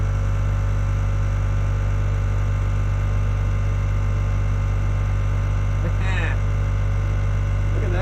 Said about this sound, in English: Oh, you can hear it bog the pump down.